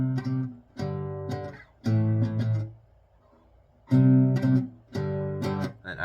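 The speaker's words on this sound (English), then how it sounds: "So the strumming pattern for the chords is going to be like this." Guitar strumming a song's chord pattern, five loud groups of quick strokes with short pauses between them, close and alone.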